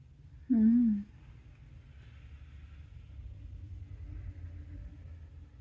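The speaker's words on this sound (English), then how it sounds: "I don't know if you just heard the truck go by" A truck passes outside on a snowy day, a low, steady rumble that swells and fades gently over several seconds, distant and faint after a brief voice at the start.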